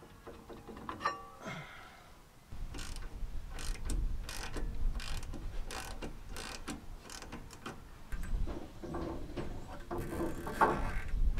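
A socket ratchet works loose the brake caliper bolts on a Land Rover during a wheel bearing change, a close, steady run of rapid clicking that continues for several seconds, with a short break midway.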